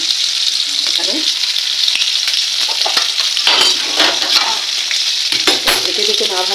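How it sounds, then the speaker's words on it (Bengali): Fish fry in hot oil, a loud continuous hiss and crackle with sharp spitting pops and occasional scraping from turning the pieces. "এই যে মাছগুলো ভাজা শুরু করে দিয়েছি"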